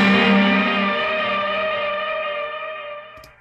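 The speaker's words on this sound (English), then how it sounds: "we wanted a nice kind of reverb tail going in before the chorus." Distorted electric guitars in a mixed rock song ring out with a long reverb tail, starting loud and fading smoothly away over a few seconds before a brief sharp hit at the end.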